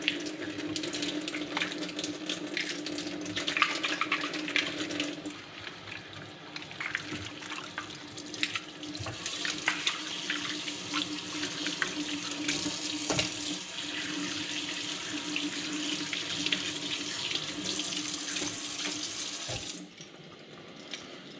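Old plastic fishing lures are washed with Dawn dish soap under a running tap. The water flows steadily and loudly for about twenty seconds, changes tone partway through as the stream shifts, and nobody speaks.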